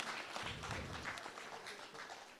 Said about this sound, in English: Give them a round of applause, please, as they come in.